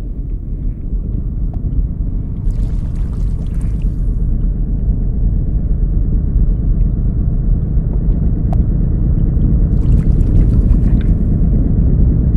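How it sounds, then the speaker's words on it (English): A boat engine rumbles steadily and loudly with a low continuous drone throughout, broken by a couple of brief hissy splashes. "they can certainly hear and feel the vibrations of a boat's engine very well"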